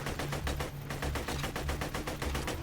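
Rapid, steady pistol gunfire in Borderlands 2, shots ringing out in an even, fast rhythm for the whole stretch, loud and close with no voices over it.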